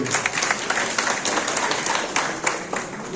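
Crowd at a party political breakfast event in Pendik claps to welcome a district chairman onto the stage, a brisk, fairly loud burst of mixed hand claps lasting a few seconds without speech.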